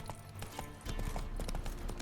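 Horse hooves clop in The Witcher 3 as a mount sets off, a quick run of close, even beats over low game ambience that grows louder partway through.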